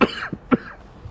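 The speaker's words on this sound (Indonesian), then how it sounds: "Saya sampai batuk." A man coughs sharply three times in quick succession, close and loud, with a rough throaty rasp and no talk around it.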